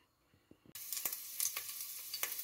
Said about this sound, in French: Dans ma casserole, je vais mettre de l'huile. Je laisse chauffer.